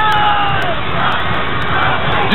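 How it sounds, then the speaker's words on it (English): Crowd at a women's wrestling strap match chanting and yelling for a wrestler, a loud continuous roar of many voices with shouted calls rising above it. "You can hear him yelling, Roxy, Roxy, Roxy."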